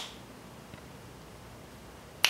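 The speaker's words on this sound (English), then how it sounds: "I'm gonna snap my fingers" A single sharp finger snap rings out close and loud at the very end, after a stretch of quiet room hiss.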